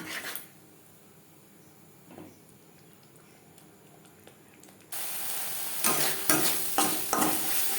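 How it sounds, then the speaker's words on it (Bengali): Coconut masala paste fries in a pan over low to medium flame. A few seconds of near quiet give way to a sudden loud, hissing sizzle with spoon-stirring scrapes. "লো টু মিডিয়াম ফ্লেমে নারকেলের মশলা বেশ ভালো করে কষিয়ে নেব"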